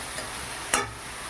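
Spice paste fried in oil in a pan is stirred, giving a soft sizzle under one quick scraping stir near the middle, brief and fairly quiet.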